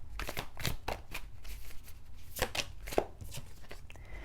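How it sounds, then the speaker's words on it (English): A deck of Light Seers tarot cards is shuffled by hand in quick papery riffles and taps, close and fairly soft, with no talking. "let's do some shuffling and pull one for each"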